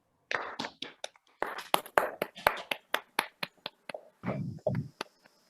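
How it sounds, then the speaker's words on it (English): A small audience at a Toastmasters club meeting gives brief, sparse applause for newly installed club officers, with quiet, irregular claps that thin out after a few seconds. "May I now request all our members to please applaud and encourage them."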